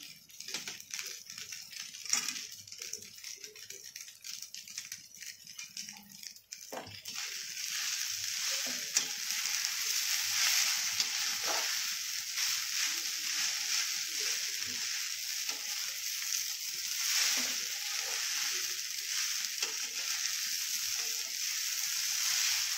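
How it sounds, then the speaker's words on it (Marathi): Sabudana (tapioca pearl) khichdi being sautéed in a pan, a steady close sizzle with scraping and stirring that grows louder and denser after the first few seconds, with no voices. "याला आता परतून द्यायचं 5 ते 6 मिनिटं परतून द्यायचं चांगलं साबुदाण्याची."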